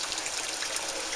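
Boiling water is poured over molasses for a homemade bread dough, giving a brief, soft, even trickle of liquid close by.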